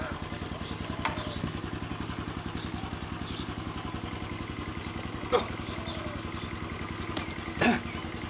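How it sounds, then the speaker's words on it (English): A postie motorcycle engine idling in first gear just after starting, a steady close rapid putter with a couple of brief clanks, no talking. "You can even start a postie bike in gear. So you saw that, it was in first gear, started, and it's sitting there bloody oiling."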